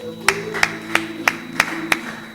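A church congregation clapping in praise of the Lord, six crisp evenly spaced claps in a steady rhythm, close and clear over a faint background hum.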